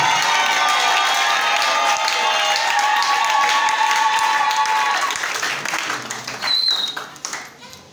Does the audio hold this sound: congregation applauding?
yes